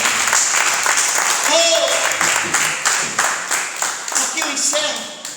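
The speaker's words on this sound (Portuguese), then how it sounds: "aplauda Jesus, queridos" Church congregation applauding steadily throughout, a dense wash of clapping with voices and cheering mixed in.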